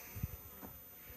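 Bees buzzing faintly around a feeder beside a Flow hive, a soft insect drone with a few low bumps and thuds close by.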